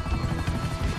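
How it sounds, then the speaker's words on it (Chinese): A helicopter in GTA Online hovers with a loud, steady rotor roar for a brief moment, filling the scene without any talk. "直升机追过来了，有没有看到？"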